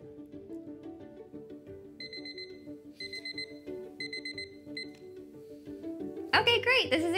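A kitchen timer goes off while mozzarella sticks bake, giving repeated bursts of bright electronic beeps in steady groups over a low kitchen hum, with a louder clatter near the end.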